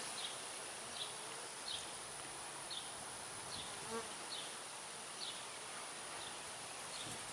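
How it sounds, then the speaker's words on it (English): A swarm of honeybees hums steadily close by, a faint, even buzz carrying through the whole stretch with small recurring flutters and no voices. "swarm of bees"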